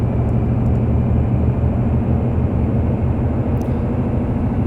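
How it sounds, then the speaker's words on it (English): A Ford truck engine in Euro Truck Simulator 2 drones steadily at a low, rumbling idle, loud and continuous with a throbbing undertone and no other sounds. "I have no idea what a Ford truck engine sounds like."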